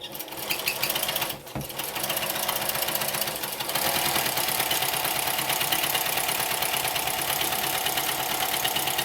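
A home sewing machine quilting straight lines with a walking foot runs in a fast, steady mechanical chatter, close and loud, after a short pause early on.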